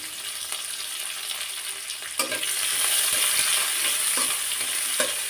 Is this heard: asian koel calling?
no